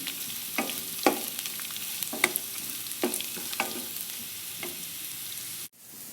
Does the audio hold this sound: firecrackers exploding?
no